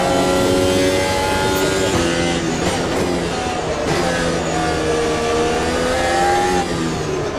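A car engine in a racing video game revs hard and steadily, its pitch climbing and dipping between gear changes, loud and continuous with no talking.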